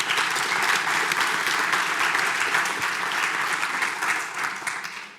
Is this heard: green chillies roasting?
no